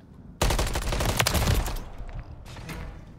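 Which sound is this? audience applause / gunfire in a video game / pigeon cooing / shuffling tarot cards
gunfire in a video game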